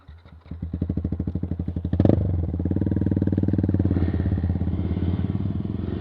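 Yamaha MT-15 BS6 motorcycle with a modified loud exhaust, running close by: a staccato idle that rises into a sharp rev blip, then settles into a steady, loud, throbbing rumble with no talking.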